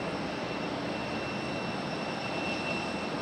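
Breeze Airways airliner at Raleigh-Durham International Airport, a steady, even broadband roar of jet engines holding level throughout with no speech.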